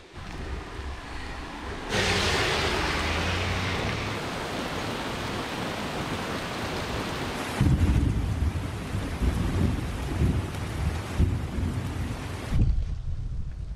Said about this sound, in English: Oh no way, it's raining.